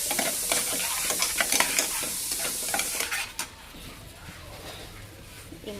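Salt, coriander-cumin powder and red chili sautéing in a pan, with scraping spoon strokes over a soft sizzle for a few seconds, then a quieter, gentler sizzle.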